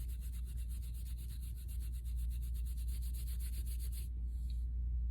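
Fine 0000 steel wool rubbed briskly with Brasso over vintage brass hardware, giving a steady rhythmic scratchy scrubbing for about four seconds that then stops, over a constant low background hum.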